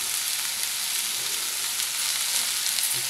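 Pumpkin pieces sizzling in a pan as tamarind goes in for pumpkin chutney, a loud, steady frying hiss filling the whole moment up close, with no voices.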